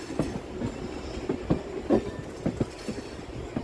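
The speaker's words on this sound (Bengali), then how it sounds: "35 মিনিট লেটে 1:10-এ ট্রেন ঢুকছে হলদিয়া স্টেশনে।" A Howrah-Haldia galloping local train pulls into Haldia station, its wheels knocking in an irregular series of clacks and thumps over a steady rumbling base, close and fairly loud with no talk.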